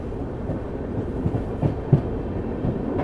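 Gomti Express (12420) train running at speed on rails shortly after leaving a station, a steady loud low rumble with scattered clicks and thumps from the wheels.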